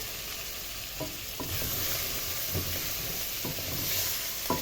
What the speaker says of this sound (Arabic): هنزل بقى بالفلفل، اديله تشويحه كده